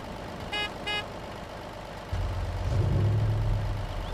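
An SUV engine in the ARMA 2 video game rumbles at idle, with two short horn toots early on, then revs up louder as the vehicle pulls away.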